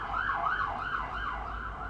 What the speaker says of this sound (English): Okay, sirens are blaring and the aircraft is flying.